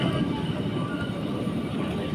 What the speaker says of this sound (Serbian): Doživljaj Lisabona nije isti ako se niste vozili i tramvajem 28.